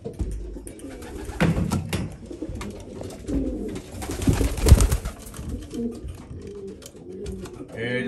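Young pigeons in a loft coo and flutter close by, with soft repeated coos and occasional wing flaps and shuffling sounds, while someone talks over them.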